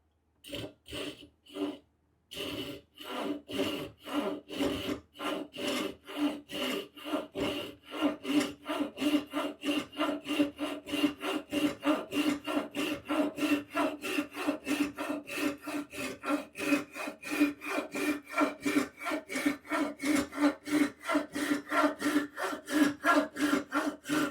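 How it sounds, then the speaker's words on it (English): A Japanese pull saw (Ruitool 6-inch) crosscuts a piece of oak hardwood in steady, rapid rasping strokes that run continuously and close up for the whole stretch, after a brief pause near the start, with no talking. "now we're going to be doing a cross cut on a piece of oak hardwood"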